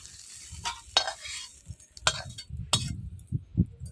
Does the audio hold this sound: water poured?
no